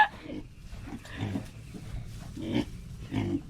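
Pigs grunt and snuffle close by in short, irregular bursts over a low background rumble.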